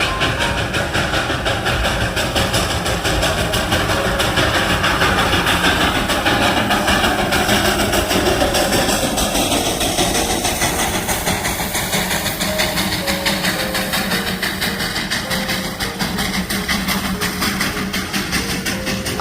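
Coal-fired steam toy train of the Darjeeling line running on the Batasia Loop, a loud, constant chugging engine rumble with steady mechanical clatter throughout.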